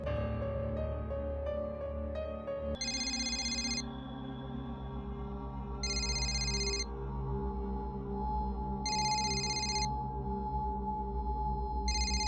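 An electronic phone ring repeats four times in evenly spaced bursts over a steady low hum, heard through a speaker.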